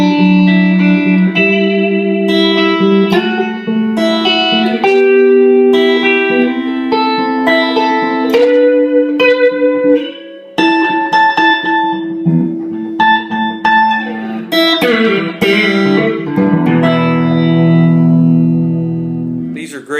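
A 1997 Fender Big Apple Stratocaster hardtail plays clean through a Fender Super Reverb amp, ringing single notes and chords with sustained tones and a fuller, busier strumming passage in the second half, no voices.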